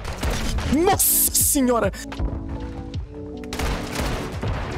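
Video game gunfire from a pistol and a sniper rifle cracks in sharp bursts amid rapid shooting, with excited voices talking over the shots.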